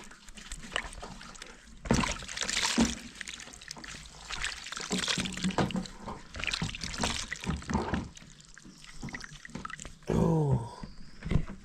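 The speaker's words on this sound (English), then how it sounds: "That's how I wash my hand, guys." Hands being washed with soap under running water, with splashing and trickling bursts coming and going over about twelve seconds, close by, and a voice chattering over it near the end.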